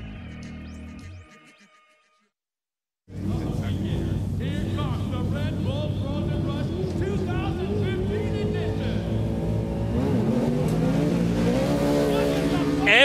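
Off-road race trucks tear across snow at Red Bull Frozen Rush, their engines roaring and revving loudly and continuously after a brief near-silent pause, with commentary and the noise of the crowd running over the racing.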